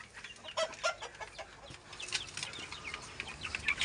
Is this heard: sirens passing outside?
no